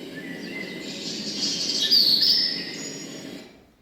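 Birdsong from a small bird in a forest, a bright chirping trill that rises in the middle of the clip and then fades out, heard alone and fairly close.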